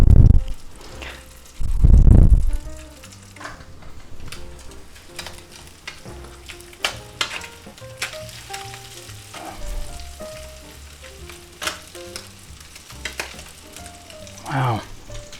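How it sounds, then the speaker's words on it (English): Ham frying in a pan, with a steady close sizzle and crackle throughout, louder bursts of stirring and scraping near the start and end, and faint background noises between. "I love the sound of ham cooking"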